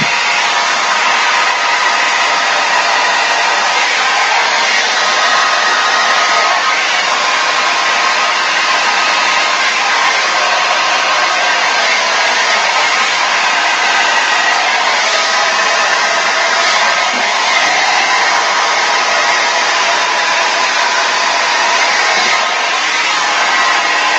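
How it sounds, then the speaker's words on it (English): A hair dryer blowing on a Dutch pour of acrylic paint made with dish soap, a loud, close, unbroken whoosh that holds steady for the whole stretch with no talk. "Now, break out the blow dryer."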